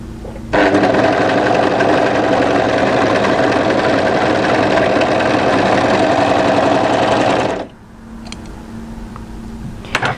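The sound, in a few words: overlocker sewing machine stitching fabric edges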